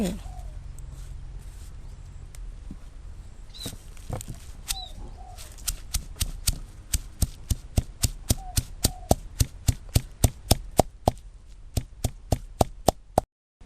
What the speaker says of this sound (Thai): ก็จากนั้นนำมาโขลกนะคะ หรือบดก็ได้